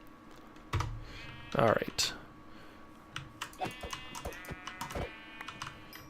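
Keyboard keys and mouse buttons clatter in quick, uneven bursts during a modded crafting game, close and fairly crisp, while someone speaks briefly over the clicking.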